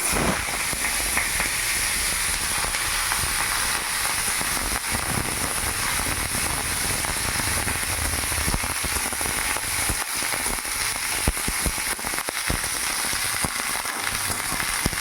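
Chopped spring onion stalks hitting hot oil tempered with panch phoron and a dried red chilli, a loud, dense, steady hiss and sizzle that runs unbroken for fifteen seconds, with faint crackles scattered through it.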